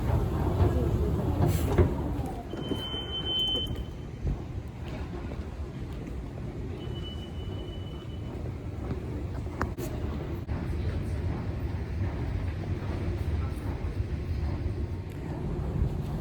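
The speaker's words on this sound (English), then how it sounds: "Okay, the train's almost here" A train rumbles steadily nearby, a continuous low roar with occasional faint squeals and wind buffeting, staying fairly constant throughout.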